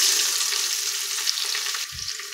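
Vertically sliced onion frying in a pan after golden cashews for paneer biryani, a loud, close, steady sizzle with a brief low knock of the pan near the end.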